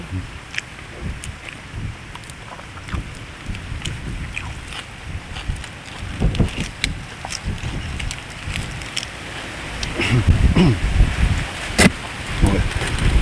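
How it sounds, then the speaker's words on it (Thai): Gusty wind buffets the microphone outdoors, with uneven rumbling bursts that grow stronger toward the end and a few sharp crackles and knocks in between. "โอ้ลมนะครับ"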